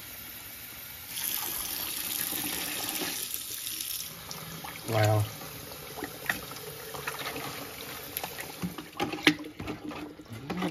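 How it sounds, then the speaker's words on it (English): Hot water pours from a gallon container onto sugar, a loud gushing splash that comes and goes under brief speech, with one excited exclamation. "So we're going to add 1 gallon of water. Hot water."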